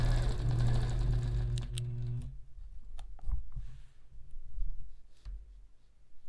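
Sewing machine stitching quilt blocks whirs fast and close for about two seconds, then stops, followed by light clicks and handling noises as fabric and a ruler are shifted.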